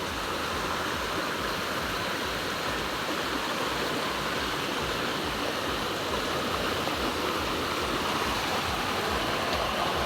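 Clear spring water from the mountain flows and rushes steadily, a continuous broadband wash that stays loud and close for the whole stretch with no voices.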